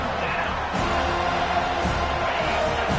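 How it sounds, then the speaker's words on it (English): Stadium crowd roar in a college football video game, a steady loud wash of cheering that swells on third down beneath game commentary. "Decibels rising as the crowd gets behind this defense on 3rd down."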